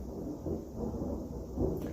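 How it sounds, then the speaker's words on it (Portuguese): Thunder rumbling on a hot, muggy day in Japan, a low continuous rolling rumble that stays steady and moderately loud with no talking. "Aí vocês ouvem esses barulhinhos, é trovão"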